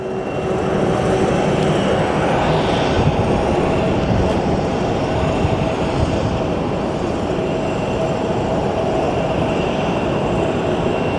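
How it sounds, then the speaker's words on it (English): A departing airliner at Sky Harbor airport, a flight bound for St. Louis, gives off a loud, steady roar that holds at full strength for the whole stretch, with no speech. "our flight to St. Louis departing right now."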